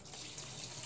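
Water runs steadily from a tap for laundry, a continuous faint hiss and splash throughout with no talk.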